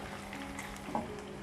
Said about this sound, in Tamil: இஞ்சி பூண்டு சேர்த்து லைட்டாக ஃப்ரை பண்ணிக்கோங்க.